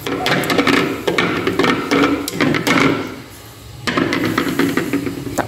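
Marinated milkfish with calamansi fries noisily in a pan, giving a loud, continuous sizzle full of crackling pops and spatters. The sizzle eases briefly midway, then surges back just as strong.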